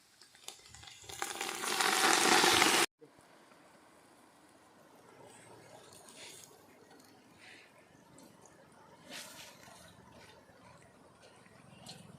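Kanjara greens dropped into a hot pan for village-style cooking give a loud burst of sizzling frying for a few seconds, then settle into a quieter, steady crackle with faint stirring.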